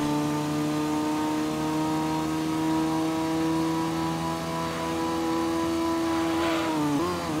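A Dodge Viper engine in the PlayStation game Gran Turismo drones at a high, steady pitch with rich harmonic whine, holding constant for several seconds before briefly dipping and climbing again as the car shifts near the end.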